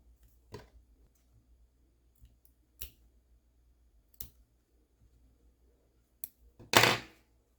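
Scattered sharp snips of scissors cutting excess yarn from a small crocheted knit bag, a few isolated clicks spaced seconds apart ending in a louder rustle.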